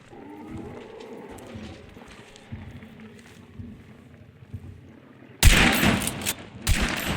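Gunfire in the video game Hunt Showdown, with two loud, close shots or short bursts cracking out near the end after a stretch of quieter ambient game sound.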